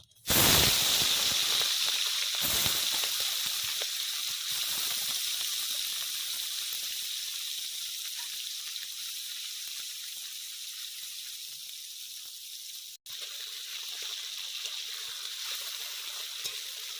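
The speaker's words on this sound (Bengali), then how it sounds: "তেল গরম হয়ে গেছে, এবার মাছগুলো ভেজে নেব" Small fish sizzling in hot oil in a pan for a Bengali small-fish dish, a steady loud hiss that starts sharply and fades slightly, with a brief break near the end.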